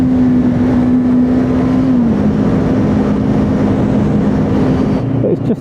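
A Honda CB500 Hornet motorcycle pulls at full throttle in third gear off a roundabout, its engine a loud, steady drone with one slight drop in pitch midway, continuous throughout.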